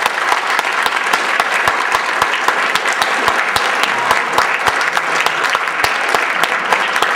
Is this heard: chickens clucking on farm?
no